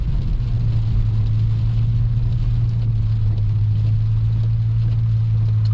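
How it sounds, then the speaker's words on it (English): A Toyota Aristo with a turbocharged 1JZ engine runs on the move with a steady, loud low engine drone and turbo whir, continuous and close, with no voices. "You can just hear the turbo"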